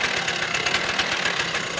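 Rokon Trailblazer two-wheel-drive motorbike engine running steadily nearby, a continuous rapid chugging putter with a fast even pulse.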